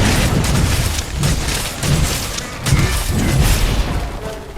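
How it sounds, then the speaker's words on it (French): Heavy weapon explosions in Monster Hunter: World thump out in a repeated series of loud, booming bursts over a dense, roaring battle background. "Voilà pourquoi elle est puissante, mon arme. Parce qu'elle fait des explosions"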